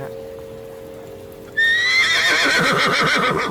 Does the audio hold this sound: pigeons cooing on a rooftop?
no